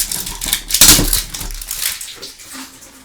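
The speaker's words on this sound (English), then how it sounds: "So it also has this top plastic. You can peel that off." Thin protective plastic film peeled off the lid of a toy cauldron, a close crinkling rip that peaks in a short loud tear and then fades into softer rustling.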